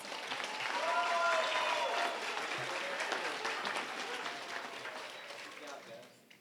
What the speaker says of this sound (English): Let's give a round of applause to our pre-K terrific kids.